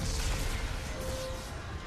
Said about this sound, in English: See, she looks at explosion.